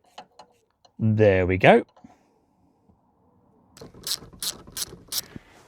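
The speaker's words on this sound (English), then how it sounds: "In with the ratchet." A ratchet works on a seat bolt in a Vauxhall Corsa D, clicking in several rapid bursts of sharp metallic pawl ticks close by, after a brief spoken remark and a few faint taps.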